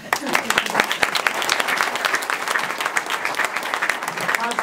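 A talk-event audience applauds the organizers with dense, steady clapping that stays loud and even for several seconds.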